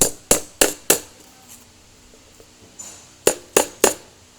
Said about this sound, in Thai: เราก็ใช้ค้อนนะครับ ทุบ ตะปูให้มันพับลงนะครับแบบนี้นะฮะ